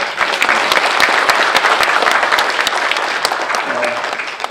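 Audience at a Korean safety association's general assembly applauds a visiting lawmaker with a steady, dense round of clapping that stays loud and even throughout before tapering slightly at the end.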